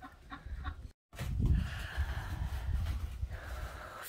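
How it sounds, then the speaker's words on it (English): Ducks quack and cluck in short bursts up close at a village in Russia near the Kazakhstan border, with a brief silent gap before a louder stretch of calling over rustling background noise. "Can somebody understand the language of ducks?"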